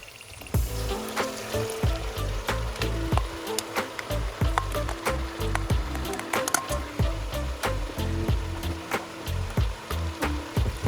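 A knife chops the white of a leek, parsley and garlic on a cutting board in a home kitchen, giving a steady run of close, crisp strikes with no talking.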